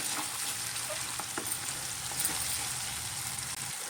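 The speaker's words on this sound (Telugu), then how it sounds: "వేపేటప్పుడు నూనె పైకి తేలుతుంది కదండి" A soft, steady sizzle of food frying in oil in a pan while cooking a paneer curry without onion or garlic, continuous and fairly quiet with faint stirring clicks.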